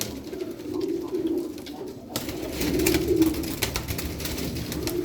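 White Adana pigeons in a loft at Darıca coo in low, rolling throaty bursts, close and fairly loud, with a brief pause and then a fuller cooing phrase over faint rustling.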